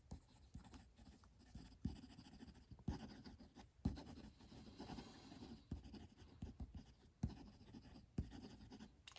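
A TWSBI Diamond Mini AL fountain pen with a fine, slightly scratchy steel nib scratches quickly across paper, soft close strokes in quick bursts with brief pauses between words.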